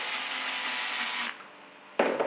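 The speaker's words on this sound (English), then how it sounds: "We can carry on drilling" Power drill boring through plastic while fitting a CUT Mount G4 cutaway system, a steady close whirring grind that stops abruptly, then a short louder burst as drilling resumes.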